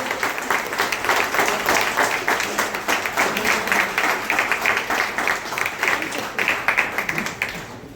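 A room of railway colleagues applauds at a retirement send-off at Northern Railway headquarters in New Delhi, sustained loud clapping rolling on for several seconds with slight swells in intensity.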